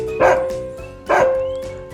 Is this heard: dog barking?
yes